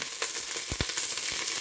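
Chicken fries in oil in a pan, giving a close, steady sizzle with a few soft stirring bumps and pops, no voices.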